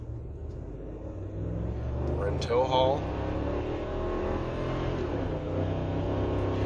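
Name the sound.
Ford 7.3 gas pickup truck accelerating hard while towing trailer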